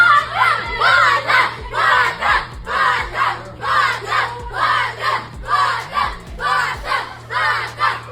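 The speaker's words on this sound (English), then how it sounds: "he was greeted by dozens of children cheering and welcoming" Dozens of children cheer and shout in a gym as they welcome a UFC fighter home in Rio, loud, rhythmic bursts of excited crowd chanting rising and falling throughout.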